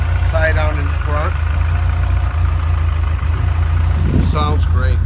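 A 1978 Porsche 924 with dual carburetors idles loud and close, its steady low rumble rising in a couple of brief revs while someone talks over it.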